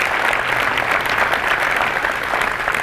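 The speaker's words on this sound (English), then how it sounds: "I give you a round of applause for giving us those state rankings" Dense, sustained applause from a large audience at an annual state of the economy gathering, a continuous loud wash of many hands clapping at once without a break.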